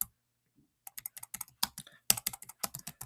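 Quick bursts of keystrokes on a computer keyboard come after a brief silence, clacking in uneven clusters at close range with nothing else heard.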